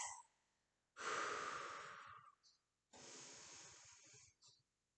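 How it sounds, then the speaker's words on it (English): Deep breaths during a resistance-band workout, two long, loud, close airy breaths about two seconds each separated by a short pause, with a faint breath at the start. "We have 3 deep breaths."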